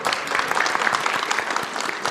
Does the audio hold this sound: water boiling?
no